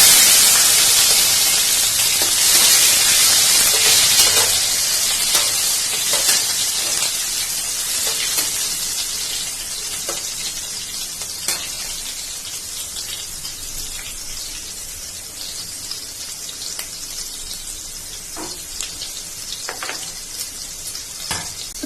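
Chopped tomatoes fry in hot oil with dried red chilli and bay leaf, a loud, close, continuous sizzle that is strongest as they hit the pan and eases slightly over time, with scattered spits and pops and no talking.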